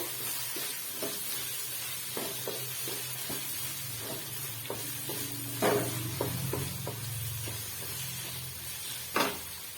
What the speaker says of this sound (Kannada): 2 ಟೊಮೊಟೊ ತಗೊಂಡಿದ್ದೆ, ಟೊಮೊಟೊ ಹಾಕೋತಾ ಇದೀನಿ.